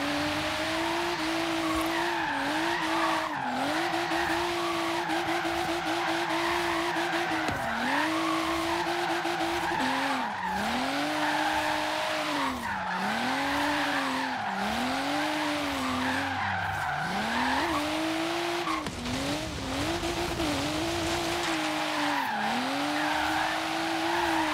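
A tuned BMW M4 Horizon Edition in the Forza Horizon 3 racing game drones loudly and continuously. Its engine pitch swoops up and down through repeated rev dips, with tire squeal layered over it.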